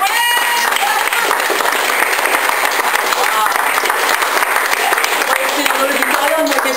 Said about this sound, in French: d'applaudir très chaleureusement